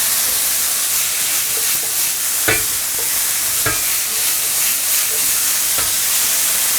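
Broccoli and shiitake mushrooms stir-fried in a hot wok after shallots and garlic, a loud continuous sizzle close up, broken by two sharp clanks of the spatula against the pan, with no talking.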